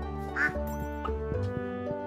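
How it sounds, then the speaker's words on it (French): A single brief duck quack in the Stardew Valley farming game, sounding once near the start over steady tonal game music, fairly quiet. "Le canard, qu'est-ce qu'il fait depuis tout à l'heure?"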